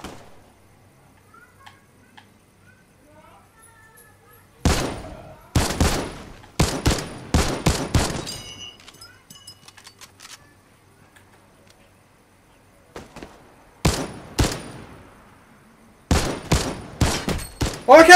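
Gunfire in Fortnite comes in sharp clusters of loud cracks and rapid volleys, separated by quiet stretches with faint game sounds, then a final flurry of shots.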